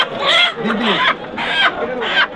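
Chickens cluck and squawk in short repeated bursts nearby at a poultry market in Bongaon, with some background voices.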